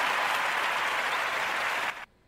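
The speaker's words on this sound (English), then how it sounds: "We got the applause going." A canned applause sound effect plays from an app: a dense, even wash of clapping hands that holds steady and then cuts off abruptly into near silence.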